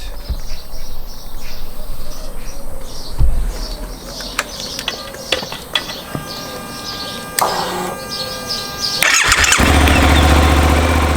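Suzuki V-Strom 800 motorcycle engine idling close by, a low steady rumble with scattered clicks and clatter from handling the bike, growing louder and fuller near the end as the engine revs up.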